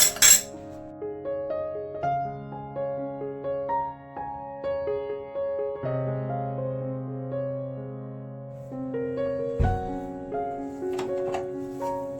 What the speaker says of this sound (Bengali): এই যে কাপ এখানে রাখছি